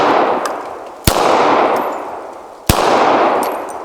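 An H9 pistol fired left-handed at a target, two sharp loud shots about one and a half seconds apart, each followed by a decaying ringing tail.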